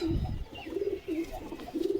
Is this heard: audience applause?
no